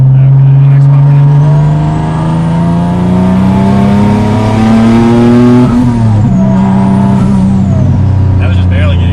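A single-turbo Nissan 370Z accelerates hard from inside the cabin, its loud engine note climbing steadily through a gear, briefly dropping at a shift, then climbing again as a high turbo whistle rises alongside.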